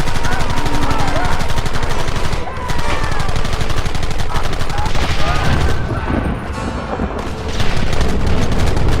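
Heavy Wild West gunfire in Red Dead Redemption: dense, continuous volleys of shots mixed with booming blasts, loud and close, broken only by a couple of brief lulls.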